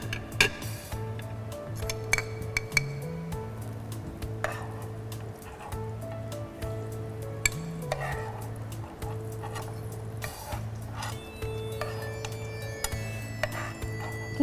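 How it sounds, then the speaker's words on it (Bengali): Raisins fry lightly in a pan, a soft steady sizzle under intermittent clinks and scrapes of a utensil against the pan, with a low steady hum from a nearby stove or fan throughout. "কিশমিশটা যেন বেশি পুড়ে না যায়, হালকা একটুখানি ভেজে নেব।"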